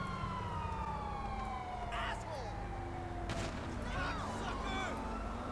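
In the GTA V video game, a police car siren wails with sweeping, descending tones that shift over several seconds. It plays amid game noise and bursts of impact sounds.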